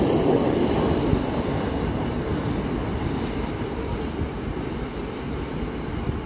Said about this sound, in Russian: Ребята, это поезд акварели.